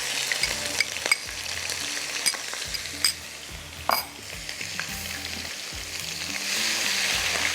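Garlic hits hot oil already crackling with cumin and mustard seeds for a chicken karahi, giving a steady close sizzle with scattered pops and stirring clatter throughout, no voices.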